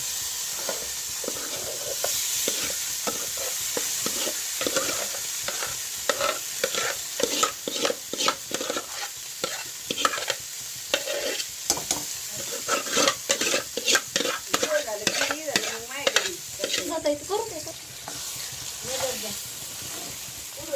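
Mutton sautéed over a wood-fired chulha stove, a steady frying sizzle broken by frequent scraping stir strokes that come in quick irregular bursts, fairly close and loud throughout.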